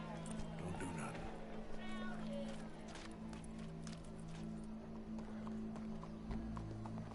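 Hooves clip-clop at a steady walking pace beneath background music and voices, with a horse whinny rising briefly, in the video game Red Dead Redemption 2.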